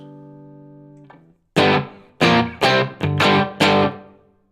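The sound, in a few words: guitar amp simulator with reverb effect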